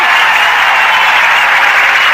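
Dense, steady crowd applause in a Hindi-dubbed South Indian action movie, loud and continuous for its whole length with no talk over it.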